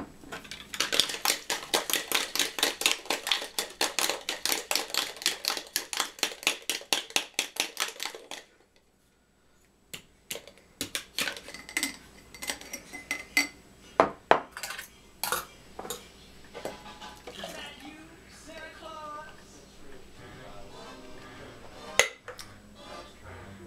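Ice clinking and clattering into a glass while preparing a homemade rum and cognac eggnog, a dense rapid rattle of cubes for several seconds, then a pause and scattered sharper clinks and knocks close by.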